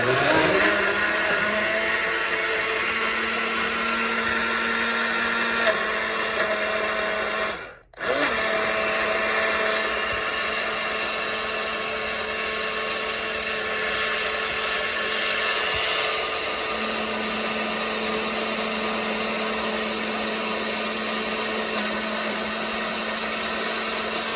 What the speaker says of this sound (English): I have a lot of stuff in this blender, so it's going to take a while to blend